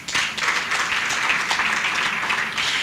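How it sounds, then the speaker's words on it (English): Sustained applause from the audience at an event launching the African Girls Can Code Initiative, a dense, steady wash of many hands clapping from start to finish, with no speech over it. "A round of applause for them, please."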